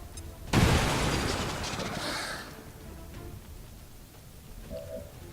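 A grenade explodes in XCOM 2: a sharp, loud blast that decays over about two seconds into debris and rumble, followed by quieter ambient noise.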